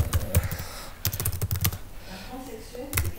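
Typing on a computer keyboard during a French math tutorial gives close, irregular bursts of key clicks with brief pauses, and a soft voice is faintly present beneath.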